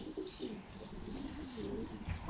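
A blue cock pigeon coos softly and repeatedly at close range, its low throaty rolling calls continuing through the whole clip with no talking.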